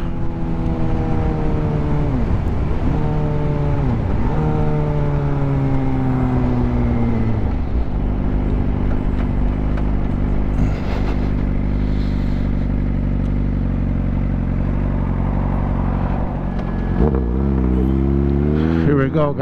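A Suzuki GSX-R 600 sport bike with a quickshifter revs high and accelerates, its engine note climbing and dropping through quick gear changes, loud and near, then settling into a steady drone before another rising run.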